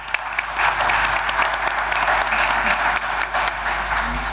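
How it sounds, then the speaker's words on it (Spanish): Sustained audience applause greeting a guest speaker at a truffle fair talk, a dense steady wash of many hands clapping throughout, fairly loud and close, with no speech over it. "les pediría un fuerte aplauso para Alexis para darle la bienvenida"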